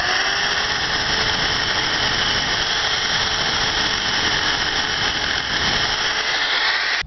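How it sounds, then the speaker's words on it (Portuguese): An electric drill with a 7 mm bit bores holes for a homemade Stirling engine, a continuous high-pitched whine and motor hum holding steady, close and loud for about seven seconds before it stops abruptly. "Agora farei mais dois furos, as duas mangueirinhas que interligam os dois cilindros. Por último, a broca 7."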